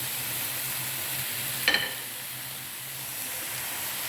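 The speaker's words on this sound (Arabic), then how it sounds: "هنا شعلنا العافية على الطنجرة وضفنا ليها الديالة، ودابا كنضيفو البصلة والثومة اللي محكوكة" Beef udder frying in a pot with grated onion and garlic gives a steady, close hiss of sizzling, with a brief louder crackling burst midway as ingredients hit the hot pot; no talking.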